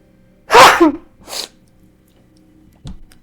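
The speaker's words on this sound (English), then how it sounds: "I have to sneeze." One loud, close sneeze with a two-part burst, followed moments later by a short sniff or breath.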